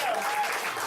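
A short burst of audience applause follows a Gilbert and Sullivan Pirates of Penzance sing-along in New York, a brief, moderately loud wash of clapping.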